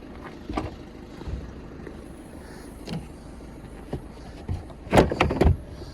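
Plastic parcel shelf in a Seat Leon hatchback being handled, giving a run of close clattering knocks and rattles, sparse at first and bunching into a louder burst of scraping thumps near the end, with no talk.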